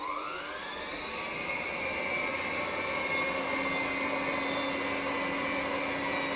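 A vintage 1929 Hoover 700 upright vacuum cleaner runs steadily with a loud, constant motor whine and rising pitch at switch-on, continuing unbroken to the end.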